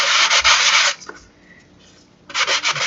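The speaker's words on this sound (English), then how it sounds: "A very light sanding." Light sanding strokes on a wooden tumbling tower block to remove glue: a close, brisk rasping burst, a short near-silent pause, then more rubbing strokes.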